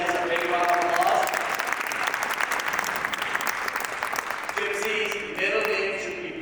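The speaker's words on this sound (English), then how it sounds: "It's a big round of applause." A big crowd applauds at the World Multicultural Festival 2024 on Parliament Hill, loud dense clapping sustained throughout, with cheers and voices rising over it toward the end.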